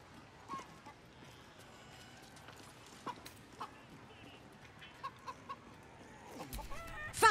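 Chicken clucking in the video game Baldur's Gate 3, a few short clucks scattered across a busy game scene with footsteps and clip-clop sounds, ending in a louder burst.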